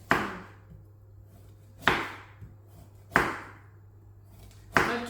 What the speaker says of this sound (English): Okay, so now we cut like this.